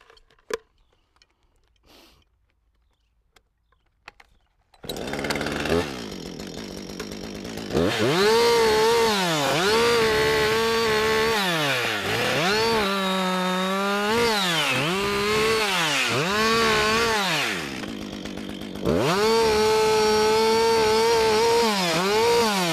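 A chainsaw bites into a tree trunk during felling, starting after a quiet opening and then running loud and close for the rest, its engine note rising and dipping repeatedly as the chain bogs in the cut and frees up.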